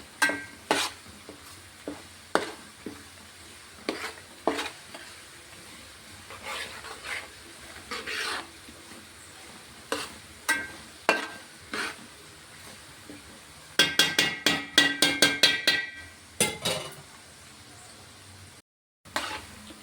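Homemade hair oil boils in a pan at home, giving off a crackling, sizzling bubble with a run of sharp pops and stirring clatter, including a dense burst of rapid crackles near the end, loud and close with no talk.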